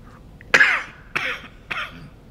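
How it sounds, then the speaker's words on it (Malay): A person coughs three times in a row after choking, with sharp, harsh bursts and a raspy throat-clearing quality, each cough slightly weaker than the one before. "Itu batuk tersedak."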